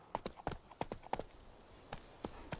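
Hooves of Roach, the horse in The Witcher 3 game, clip-clop in a steady, fairly quick rhythm of sharp, close knocks with no voices over them.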